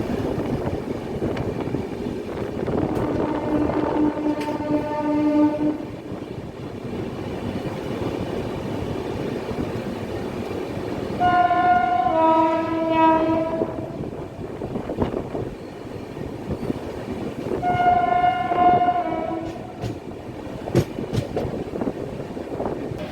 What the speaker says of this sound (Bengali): ঠিক টাইমেই কিন্তু ট্রেন এন্ট্রি করতে চলেছে শিয়ালদা প্ল্যাটফর্মে